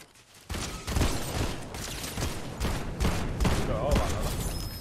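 Rapid bursts of Fortnite Zero Build gunfire, dense and loud, with a voice talking in Swedish over the shooting.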